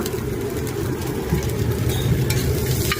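Chicken fried rice being stir-fried at a busy street food stall, a dense continuous sizzle and rumble of the wok with a low engine-like hum underneath, close and steady.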